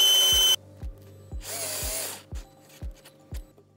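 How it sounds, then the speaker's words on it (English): Power drill boring a hole to mount a folding windshield on a Polaris RZR XP, with one loud whirring burst, a short pause, a second shorter burst, and a series of sharp knocks around them. "So I'm gonna grab my drill"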